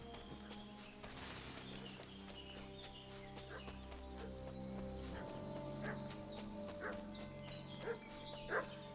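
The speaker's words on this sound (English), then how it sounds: "What's that dog making such a fuss about?" A dog barking in the video game Kingdom Come Deliverance II, a few short barks at middle distance over a bed of ambient village noise and soft footsteps, no talk.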